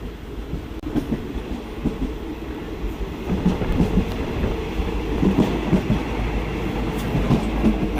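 Steady rumble and clickety-clack of a moving passenger train between Bangkok and Chumphon, heard from inside a carriage, with continuous low rolling noise and faint rhythmic wheel clicks throughout.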